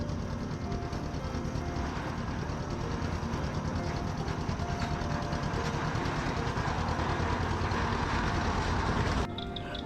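A toy train at the Elephanta Caves runs with a steady, droning engine rumble and clatter that holds constant throughout, then cuts off abruptly near the end.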